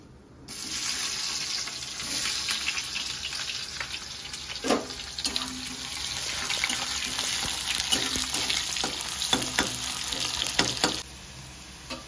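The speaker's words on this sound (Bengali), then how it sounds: "তেল গরম হয়ে গেছে, দিয়ে দিচ্ছি কালো জিরে, শুকনো লঙ্কা, দিয়ে দিচ্ছি পেঁয়াজ কুচি" Chopped onion, nigella seeds and dried red chilli sizzle loudly in hot mustard oil, a steady hissing crackle with occasional stirring clatters against the pan, with no talking.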